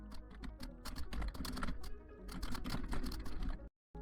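Fast, steady typing on a computer keyboard, with dense, close clicking keystrokes that continue nonstop before a sudden cut to near silence at the very end.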